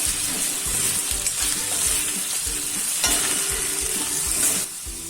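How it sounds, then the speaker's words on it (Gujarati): Potatoes frying in a pan for a Gujarati potato-chili sambharo, stirred steadily so the sizzle runs loud and close throughout with repeated scraping strokes of the spoon. "એટલે આપણે આ રીતના આપણે હલાવી રાખશું એટલે એકદમ બધી બાજુ આપણું બટેકું ચડી જાય"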